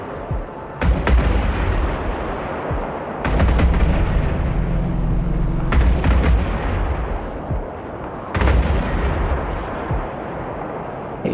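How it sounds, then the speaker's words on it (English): Railgun fire from a Cormorant ship in EVE Online, heavy booming shots in separate bursts with deep rumbling tails, loud and close with no talking. "This is the beauty of a railgun cormorant, folks."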